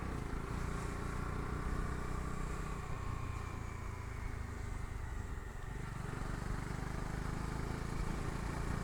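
A Bajaj Dominar 250 motorcycle engine hums steadily from the pillion seat while riding through town, a continuous low drone with wind rush and road noise, dipping briefly as the throttle eases.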